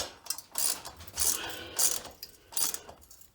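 Nuts being snugged onto screws holding a steel strap against a bowing basement foundation wall: four bursts of metallic ratcheting and clicking, evenly spaced and close, with no talk.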